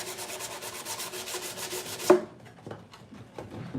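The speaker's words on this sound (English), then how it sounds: "Oop, one more spot I wanted to sand." Steady scratchy rubbing of sandpaper worked over a salvaged wooden lath slat crate, loud and continuous for about two seconds, then stopping abruptly into quiet handling noises.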